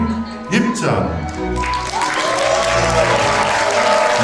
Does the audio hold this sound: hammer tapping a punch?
no